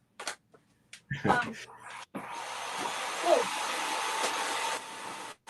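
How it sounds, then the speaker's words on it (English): A vacuum cleaner runs as a steady broadband whine and roar for several seconds, starting after a few thumps and cutting off near the end, with quiet talk nearby. "Sounds like someone's doing the vacuum."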